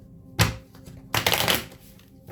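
Two quick bursts of tarot cards riffling and shuffling, the second longer, separated by a brief near-quiet pause.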